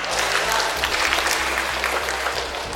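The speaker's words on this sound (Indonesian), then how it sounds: "Tepuk tangan Pak." Applause at a Subang regency government public consultation forum, a dense, steady clatter of many hands from an assembled audience, fairly loud and continuous throughout.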